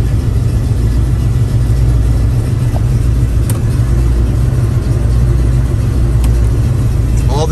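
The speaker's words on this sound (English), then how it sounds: "Let's fire up. Come on, Mustang." A 1970 Ford Mustang engine runs loud and steady throughout, a deep rumbling idle with slight revving swells and no clear start or pause.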